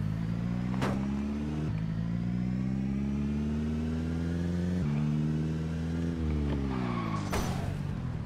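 A car engine in the video game Project Zomboid revs up and down repeatedly, its pitch rising and dropping in steady surges, loud and close, with a few sharp clicks between revs.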